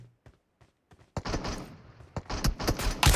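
Gunfire in PUBG Mobile: a few sparse faint shots, then a dense loud burst of rapid shots with reverberant crackle, some sharp individual reports standing out, and a final loud blast at the end, with no talking.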